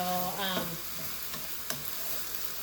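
Food sizzles and fries steadily in a pan on a home kitchen stove, a constant close hiss with a brief tonal squeak and a couple of soft clinks from stirring.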